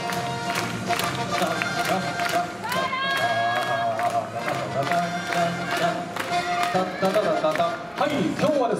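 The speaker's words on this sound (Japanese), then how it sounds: "どうぞ皆さん手拍子お願いします。" An audience at a D-STAGE live show clapping along in steady rhythm to upbeat music during a flag-raising game corner, a broad even wash of hand claps under a presenter's voice.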